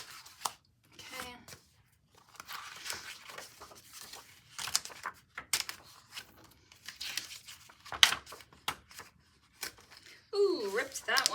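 Paper is torn out of a scrapbooking kit in repeated crisp rips and crinkles, close up, mixed with a person talking softly throughout.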